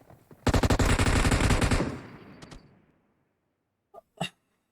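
A rapid automatic burst of gunfire in the video game PUBG Mobile, loud and close, lasting over a second before tailing off, followed by two brief distant shots.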